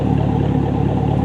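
A fifth-generation Chevrolet Camaro SS with a straight-piped exhaust, muffler and resonator deleted, idles loud and close with a deep, steady, burbling rumble.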